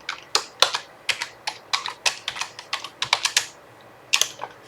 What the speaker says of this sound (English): I have to type in the password correct